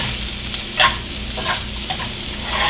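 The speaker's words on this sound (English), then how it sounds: "we're going to take some asparagus tips that I've cut off, okay, and we're going to saute that around in there." Cut asparagus tips sizzle in a hot pan, with soft scraping stirs and brief bursts of frying crackle close up over a constant low sizzle.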